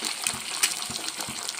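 Two beaten eggs pour into a pan for an egg curry, making a brief, close, wet gushing sound with a few soft splats.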